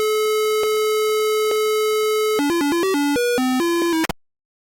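Harsh, discordant square-wave notes from the ZZT game Dragon Rage: a long sustained tone, then a choppy run of jumping beeps that cuts off abruptly, loud and electronic with no voices.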